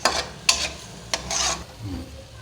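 Prawns fried with tomatoes and oil in a karahi, with a few sharp spatula scrapes and stirring strokes over a soft, low sizzle.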